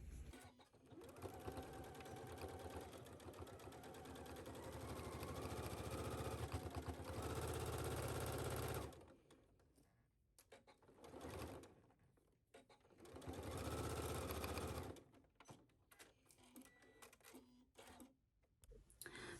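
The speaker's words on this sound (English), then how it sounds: "take this to your sewing machine and sew it at 5/8" A sewing machine runs in several bursts of rapid mechanical stitching, long runs alternating with short pauses and quieter handling sounds, close by.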